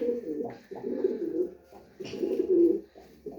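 Pet pigeons coo in close, soft, repeated throaty phrases, several overlapping bursts with short pauses and no talk.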